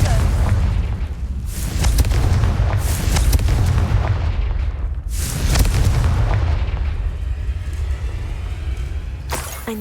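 A Confringo spell in Hogwarts Legacy goes off as a series of heavy booming blasts with deep rumbling tails. Several loud bursts come close together over a constant low roar, with no one speaking.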